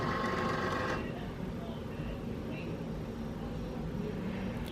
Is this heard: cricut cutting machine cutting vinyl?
yes